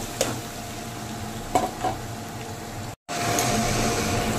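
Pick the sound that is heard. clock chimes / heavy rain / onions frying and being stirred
onions frying and being stirred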